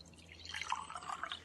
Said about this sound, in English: More Evian, Rick.